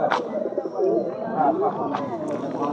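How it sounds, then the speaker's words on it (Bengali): A Najra pigeon coos softly at a pigeon market, low rolling murmurs close by, mixed with voices talking and a few short chirps. "এটা নাজরা পায়রা"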